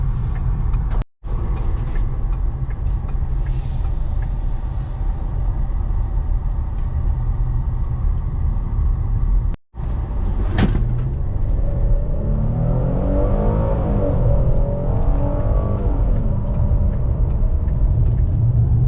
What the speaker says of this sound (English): we can do an acceleration run in a second